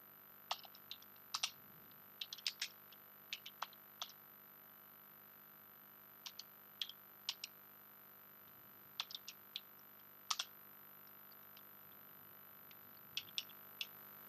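Typing on a computer keyboard while entering a command, short bursts of light key clicks separated by pauses, faint and close over a steady electronic hum.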